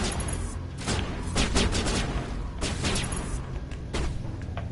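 Rapid gunfire in the video game Mass Effect 1 Legendary Edition, with several loud sharp shots and a grenade boom layered over a steady roar of battle noise.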